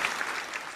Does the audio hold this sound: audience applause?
yes